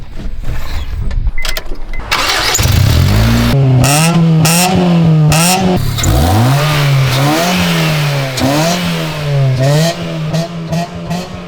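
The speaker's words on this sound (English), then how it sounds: "I hear a nice sound when I start this car up" A Honda Civic fitted with new headers starts and is revved repeatedly, its engine note rising and falling in loud, close bursts with no talking.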